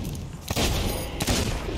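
Two sharp gunshots ring out about a second apart in the pirate game Sea of Thieves, fired from a sniper rifle, loud and close with brief echoing tails.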